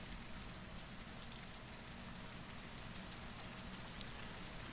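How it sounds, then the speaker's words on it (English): Steady rain falling in the zombie survival game Surroundead, a dense even hiss that holds unchanged throughout with no talk over it. "Oh, it's raining again."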